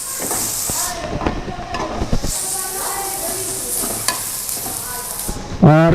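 Shredded chicken sizzles as it is lightly sautéed with garlic in a pan for chicken corn soup. The frying hiss is steady and close, with scraping stirs and clinks on top, and a short squeaky scrape at the end.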